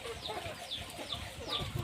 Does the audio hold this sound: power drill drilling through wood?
no